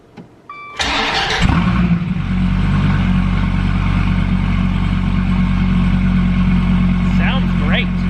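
A Gen 5 Dodge Viper engine cranks and fires up with a loud burst, then settles into a strong, steady rumbling idle with a couple of brief revs near the end, all close by with no talk over it.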